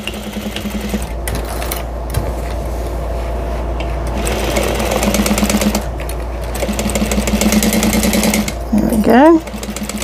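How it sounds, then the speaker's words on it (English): Sewing machine back stitching the flap of a tote bag, a steady whirring run of stitches with short stops and restarts, close and loud, with a brief spoken remark near the end. "I'm going to back stitch right there at the beginning and at the end, just kind of reinforcing it"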